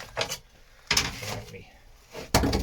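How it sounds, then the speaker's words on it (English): A door is shut on a boat, giving a couple of wooden knocks and thuds with light rubbing in between, fairly close and quiet. "Door shut."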